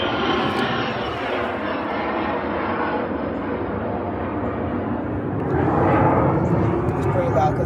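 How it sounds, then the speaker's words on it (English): A loud, steady airplane drone fills the air outside a Yamaha Rhino side-by-side, swelling slightly near the end, with a person talking over it. "It's pretty loud because there's an airplane."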